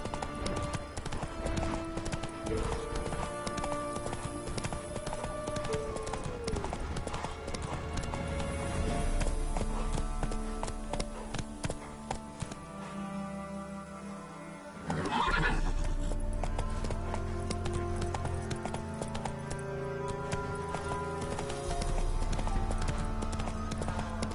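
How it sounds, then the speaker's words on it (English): Galloping hooves clip-clop steadily with repeated neighing and whinnying from a horse in The Witcher 3 video game, loud and continuous over game music, with a brief lull midway before the hoofbeats resume. "Run, Roach."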